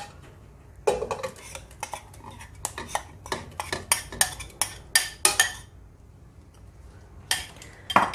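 Coconut paste goes into a pot for a Kerala-style horse gram and yam erissery and gets mixed with a spoon, giving a run of sharp metallic clinks and scrapes, close and clear, then a pause and a few more knocks.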